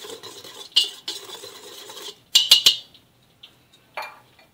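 Semolina stirred together with flour and baking powder by hand in a bowl, giving soft scraping and rustling strokes, then a few sharper clinks and taps, close and fairly quiet.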